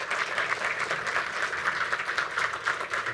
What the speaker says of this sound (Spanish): Recibimos a Daniel con un fuerte aplauso